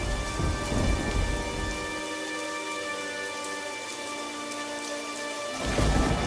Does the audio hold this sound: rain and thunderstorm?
yes